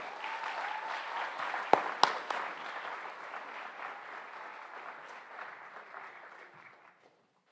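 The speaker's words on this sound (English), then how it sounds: "One more round of applause for our Athletes of the Year" Sustained applause from an audience at a high school senior awards night, loud and steady with a few sharp claps standing out, fading out toward the end.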